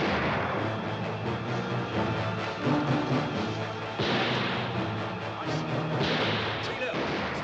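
Gunfire in a film battle scene: a loud, dense barrage of shots and booming reports, with sharp bursts near four and six seconds, under shouted voices.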